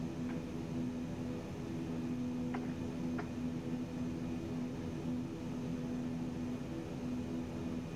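Steady aircraft engine drone from a Jonge Pioneer C90 taxiing in X-Plane: a continuous, even hum with a faint tonal whine, holding constant throughout, with a couple of brief faint clicks and no talking.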